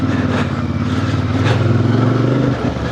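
Engine of a 2026 CF Moto IBEX 450 motorcycle riding off road on dirt, a close, steady droning hum that rises slightly in pitch before dropping off briefly near the end.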